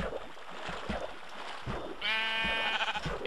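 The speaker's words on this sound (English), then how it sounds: "Sheep, sheep, sheep, sheep, sheep, sheep." Sheep in the Minecraft video game bleat repeatedly, with a clear, sustained bleat in the second half sitting over soft game sounds and light footstep-like thumps.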